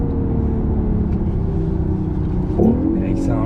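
A BMW i8 hybrid sports car pulls away with a steady low drone that swells into a rising whine toward the end, while voices talk over it inside the cabin.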